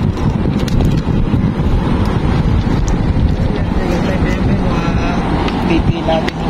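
Strong, constant wind buffeting the microphone with a low rumbling roar, and faint voices somewhere beneath it.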